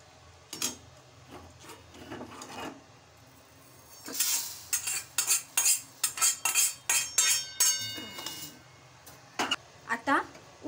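Roasted rice for chakli bhajani being scraped from a pan into a wide plate: a series of sharp metallic scrapes and clinks, sparse at first and then a rapid run of spoon-on-metal strikes, close and fairly loud.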